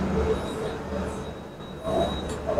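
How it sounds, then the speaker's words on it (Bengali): An express train pulls into Pandit Deen Dayal Upadhyay Junction with a steady rolling rumble, faint thin metallic squeals from the wheels rising over it. "নটা 55 ট্রেন এসে দাঁড়ালো আমাদের পন্ডিত দিনদয়াল উপাধ্যায় জাংশন"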